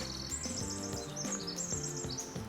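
A small bird sings in an Alaskan park near Seward, with repeated high chirping phrases over a steady background of music-like tones, moderately close and with no talk.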